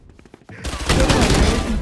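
Rapid automatic gunfire from a weapon in the shooter game Valorant, a loud sustained burst of shots that follows a few quieter clicks and footsteps.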